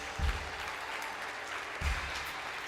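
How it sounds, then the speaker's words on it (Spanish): A church congregation claps during a sermon, with a fairly quiet, steady wash of applause and a couple of soft thumps. "dele un aplauso a Dios bien fuerte"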